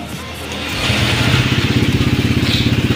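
Engine of a Honda Click scooter running close by, a steady throbbing idle whose rapid even pulses grow a little louder and more distinct partway through.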